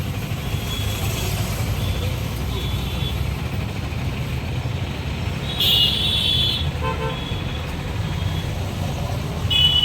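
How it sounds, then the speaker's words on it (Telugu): Steady road traffic rumbles close by, with vehicles passing and a few short horn toots cutting through the continuous roadway noise, no talk heard. "రోడ్డు మీద బండ్లు వెళ్తుంటాయి కదా, గోలగా ఉంది"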